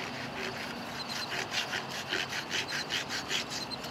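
Aluminum foil scrubbed back and forth against a rusty metal surface, giving a steady rhythmic rasping of repeated strokes, fairly faint and close, with no voices.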